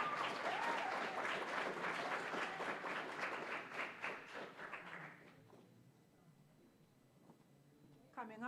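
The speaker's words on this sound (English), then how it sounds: "Let's give another round of applause." Audience applause at a Garifuna heritage event, a dense steady clapping that fades after about five seconds into quiet, with a brief vocal sound at the end.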